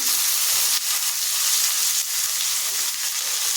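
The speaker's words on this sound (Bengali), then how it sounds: "পেঁয়াজ দিয়ে দিলাম পেঁয়াজ দিয়ে দিলাম একটু নাড়বো" Onions hit hot oil in a home kitchen pan that had been left on the gas, producing a loud, dense sizzle that runs throughout, punctuated by a couple of stirring scrapes.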